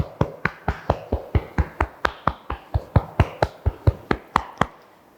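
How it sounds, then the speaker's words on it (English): Cupped hands tapping on the chest over the rib cage in a steady rhythm, about twenty crisp hollow pats in five seconds, close and alone with no talk. "You might hear a little resonance inside your own lung space as you tap."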